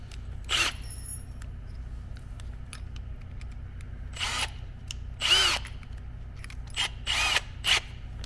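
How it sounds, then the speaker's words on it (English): A power drill boring a hole while working on an Aprilia snowbike, with short separate whirring bursts and quiet pauses between them. "Alright, so now I've drilled about 3/4 inches deep."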